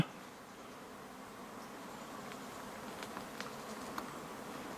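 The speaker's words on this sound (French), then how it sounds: "c'est bondé de ruches. Il n'y a que des ruches là, que des ruches ici." Steady, faint buzzing of bees around crowded beehives at an abandoned campsite in Corsica, a continuous hum with a few closer passes standing out.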